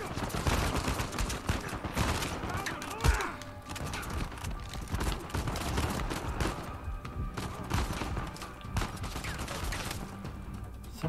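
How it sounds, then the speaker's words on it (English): Gunfire in the video game Uncharted 4, dense bursts of shots and rattling fire mixed with thuds and game noise, steady and moderately loud throughout. "somebody's shooting me from over there"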